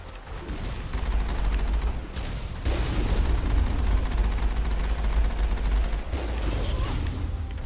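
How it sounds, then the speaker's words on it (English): Dense, sustained gunfire from enemies in the Mass Effect video game, rapid overlapping shots rattling continuously at close range, with a few brief lulls. "Oh yeah, they're totally trying to shoot at me already."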